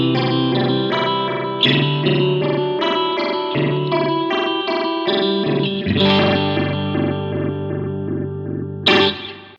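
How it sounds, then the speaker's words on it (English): Guitar played through an All-Pedal Microdose 8-stage phaser set to a random waveform, chords and notes swirling with abrupt, jumpy sweeps and distorted, chorus-like tone, steady and loud throughout. "with an 8-stage phaser, that's going to be pretty wacky"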